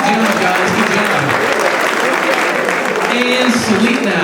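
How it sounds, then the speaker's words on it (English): A school audience gives a big round of applause for children after a performance about bullying, with sustained dense clapping and cheering throughout and voices mixed into the noise. "Everyone give them all a great big round of applause."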